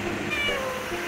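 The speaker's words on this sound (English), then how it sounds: "That was my cat." A house cat lets out a single drawn-out meow, close and clear, over a steady background hum.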